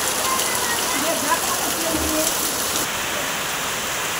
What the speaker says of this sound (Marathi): बापरे किती पाऊस होतं